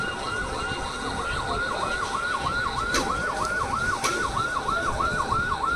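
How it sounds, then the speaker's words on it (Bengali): An ambulance siren wails in a fast, repeating up-and-down cycle on a street near a burning building in Jatrabari, heard from a distance over a busy background, with a couple of short sharp knocks. "আপনারা অ্যাম্বুলেন্সের শব্দে শুনতে পাচ্ছেন"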